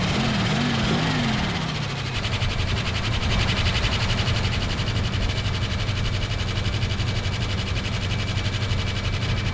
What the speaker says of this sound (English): it almost sounds like we got exhaust leak going on too